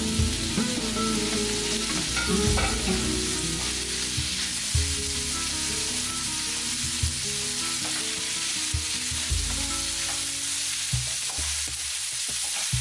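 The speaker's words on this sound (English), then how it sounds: "We have sliced chorizo that we're going to start browning in olive oil." Sliced chorizo sizzles steadily as it browns in olive oil for Spanish tapas, a loud, continuous frying hiss with occasional stirring clatter throughout and no voices.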